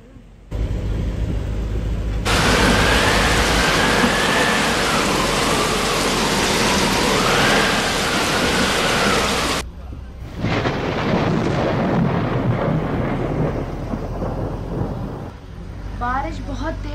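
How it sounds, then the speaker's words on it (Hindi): Heavy rain pours down steadily at Bannerghatta National Park in a loud, dense roar that briefly drops off, then returns; a few faint bird calls come through near the end. "बारिश बहुत तेज हो रही है"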